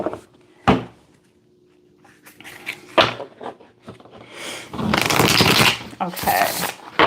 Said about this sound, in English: let me pull cards on it to find out